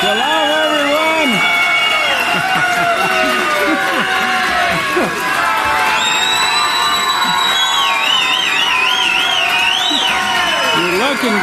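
A congregation at a Sabbath service cheers loudly, with a dense mix of shouts, whoops, high voices and some clapping sustained throughout, crowded and close.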